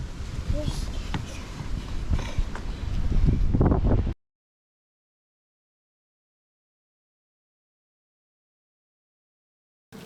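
Wind buffets the microphone in a loud, steady roar, with rustling and a person talking, before the sound cuts off abruptly into silence.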